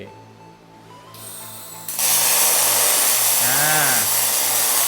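A loud, steady broadband hiss and crackle of MIG welding on 5 mm thick aluminum starts abruptly after a quieter mechanical hum from a Falcon MAX MIG 250 welder, continuing without pause.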